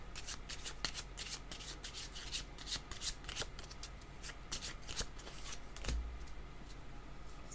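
Tarot cards riffle and slide through the hands in a steady shuffle, a continuous close, soft papery flutter with a few sharper snaps, before another card is drawn.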